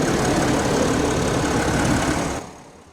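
A 6.7-liter Cummins turbodiesel in a 2022 Ram 2500 pickup idles with a steady, low rumbling clatter, close by, then fades away near the end.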